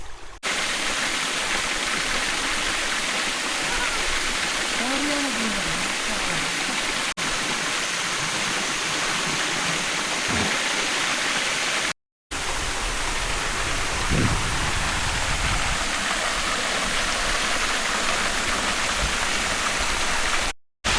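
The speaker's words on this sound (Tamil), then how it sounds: "தண்ணி சவுண்டு கேட்குது" Rushing mountain stream on a hillside walk through scrub, a loud, steady broadband roar of flowing water close by that fills the whole clip, with brief gaps.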